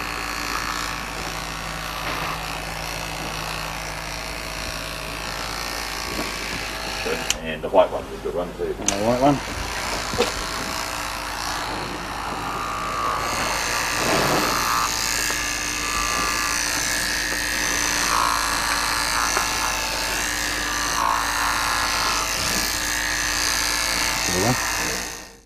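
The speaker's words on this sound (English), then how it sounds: "Use a quality electric clipper with a size 30 surgical cut blade to ensure the remaining hair is as" Electric clipper fitted with a size 30 surgical blade buzzing steadily as it clips cattle hair, a continuous close hum with a brief shift partway through.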